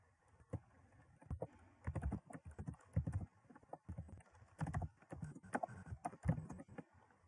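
Quiet, irregular clicking of a computer keyboard and mouse during a livestream, coming in short clustered bursts with brief pauses, close but faint.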